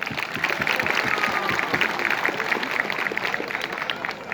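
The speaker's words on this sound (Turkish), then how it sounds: "Bir alkış istiyorum hizmetleri için." An audience breaks into sustained applause for someone's years of service, a loud, even roar of many hands clapping throughout with no break.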